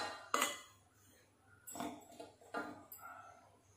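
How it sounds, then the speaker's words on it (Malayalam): A cooking pan for peanut chikki is handled as 200 grams of jaggery goes in, giving three or four sharp metallic clinks and knocks spaced apart, close and fairly quiet against a faint background. "ഞാനിവിടെ ഇതുപോലൊരു പാൻ എടുത്തിട്ട് അതിലേക്ക് 200 ഗ്രാം ശർക്കരയാണ് അതിട്ട് കൊടുക്കുക"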